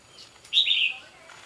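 A single bird gives one clear, fairly loud chirp, a short bright call standing alone against a quiet outdoor background, with a fainter call before and after.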